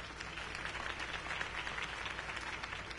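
Faint crowd applause in a Batman video game, a steady wash of many hands clapping, distant and low in level throughout.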